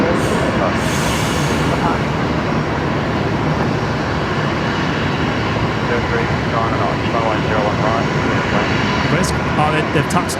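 A plane lands at Brisbane Airport, its engines roaring steadily and filling the scene from start to finish, while people talk over the noise.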